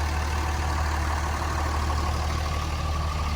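A Cummins diesel engine in a single-cab pickup truck running steadily at idle, a constant low rumble with no variation in rhythm, heard up close and alone.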